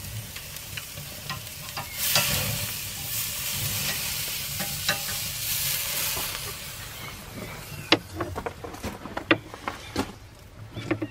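Two seasoned steaks sizzle in a hot pan, with a steady frying hiss that swells partway through and is dotted with scattered pops and clicks toward the end.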